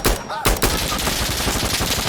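Loud, rapid bursts of automatic gunfire overlapping in a firefight in the video game Insurgency Sandstorm, dense and continuous with a brief gap near the start.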